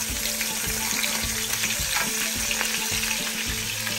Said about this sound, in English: Now we're gonna add the lobster tail.